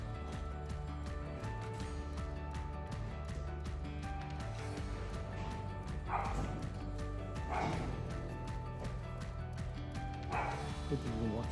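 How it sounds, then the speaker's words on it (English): Dogs barking at someone passing by, several sharp barks and yips at a moderate distance over steady background sound in a home workshop setting. "Excuse the dogs barking. Obviously someone's walking past."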